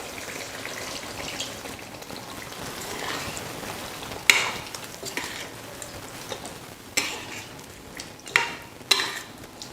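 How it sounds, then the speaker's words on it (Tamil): Chicken curry being stirred in a pot after coconut milk is added: a soft bubbling simmer with a few sharp utensil scrapes and knocks against the pan, close up and without speech. "தேங்காய் பால் சேர்த்ததுக்கப்புறம் நல்லா கலந்து விட்டுடுங்க."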